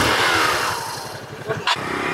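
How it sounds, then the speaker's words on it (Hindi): Several motorbikes start up and idle, lined up for a tug-of-war against an electric rickshaw; a loud, close, pulsing engine rumble with a brief rev and clatter near the end. "बाइक स्टार्ट कीजिए आप लोग"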